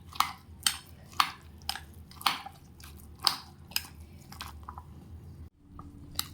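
Dry ingredients with a pinch of salt being kneaded and mixed with water by hand make close, wet squishing and crunching bursts at a steady rhythm of about two per second, then pause briefly near the end.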